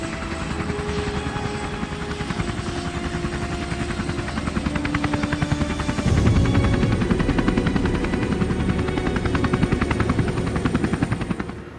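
A military evacuation helicopter sounds loud and close, its rotor chop a steady, throbbing pulse that grows heavier partway through. No voices are heard.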